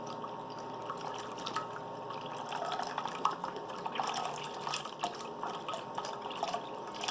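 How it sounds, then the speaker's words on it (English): A quart of coconut milk poured from its container into a brown rice pudding mixture, a steady soft gurgling liquid stream with small splashes, quiet and continuous throughout. "we're going to add a whole quart of coconut milk"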